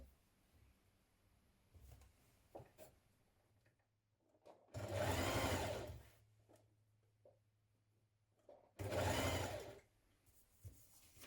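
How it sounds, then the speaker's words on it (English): A sewing machine stitching dress shoulder yokes in place, heard as two loud close whirring bursts of about a second each, separated by quiet handling and fabric rustle, with no talking. "we're going to stitch them in place here and here"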